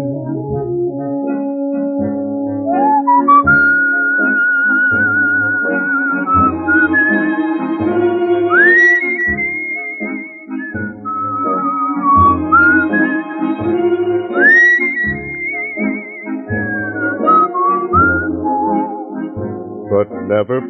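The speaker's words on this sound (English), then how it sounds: "Maybe for whistling." A person whistles a bright, wandering melody over an instrumental backing of sustained tones, the whistled notes sliding and gliding through long phrases for about twenty seconds, loud and close.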